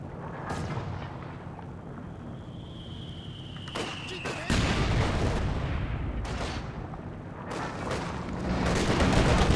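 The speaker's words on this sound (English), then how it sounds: "Jibber just letting the rifle nades fly at the moment." Rifle grenades bursting in a strategy video game, a few sharp booms, the heaviest at about four and a half seconds, over steady rumbling battle noise, with a brief whistling streak before the blast and a commentator talking over it.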